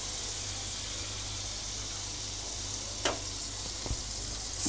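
Butter sizzling in a hot pan over a low gas flame as it is spread around, a steady close hiss with a couple of faint scraping clicks.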